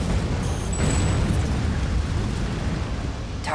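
A mech blows up in the Armored Core 6 arena, a loud sustained explosive rumble with a dense low roar that holds steady across the whole span, with a brief thin high tone near the start.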